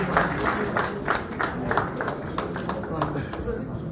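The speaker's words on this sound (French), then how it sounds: "Applaudissez Blaise Boula qui vient de faire son entrée" Audience applauding a man's entrance at a concert event, scattered distinct claps mixed with crowd noise and speech over four seconds.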